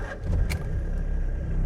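BMW fitted with a Nissan LD28 diesel engine idling, a low, steady rumble with a slight rhythmic vibration, close and continuous.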